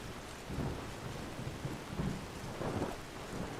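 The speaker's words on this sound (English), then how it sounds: "Ah, wonderful rain." Steady rain hisses with low rumbles of thunder rolling through it in the Skyrim video game, a continuous wet downpour filling the scene with no voices.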